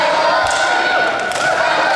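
A wrestling crowd on its feet cheers for CJ Lionheart during his match against Alexander Pressley, a steady dense roar of many voices sustained through the whole stretch with a few louder swells.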